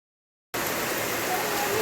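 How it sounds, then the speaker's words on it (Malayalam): Heavy rain at a home, a dense, even hiss of falling water that cuts in suddenly after a brief silence and holds steady, fairly close. "എന്താ നല്ല മഴയൊക്കെ, സെറ്റ് മഴ."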